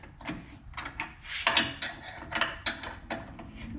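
Metal mounting bolts being tightened on a PowerPole anchor on a 1997 Ranger 461 boat, giving a run of close ratcheting clicks and knocks with no talk.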